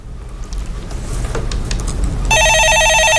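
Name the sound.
telephone ringing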